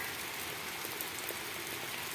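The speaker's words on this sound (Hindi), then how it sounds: "बारिश धड़ाधड़ लग पाती है इतनी ज्यादा हो रही है" Heavy rain pouring down in a Pakistani village, a dense, steady hiss of falling water filling the whole short stretch, fairly faint with no other sounds.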